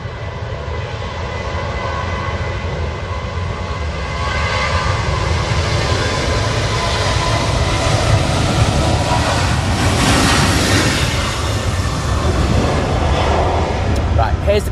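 Aegean Airbus A320neo on approach to land at Manchester Airport in storm conditions, a broad rushing engine roar building louder midway, with wind noise and a voice talking beneath.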